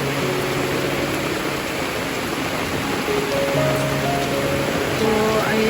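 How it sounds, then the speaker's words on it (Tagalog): Steady, dense heavy rain pours down during flooding in a continuous hiss, with faint tonal hums drifting through in the background. "Wala pa rin tigil ang ulan."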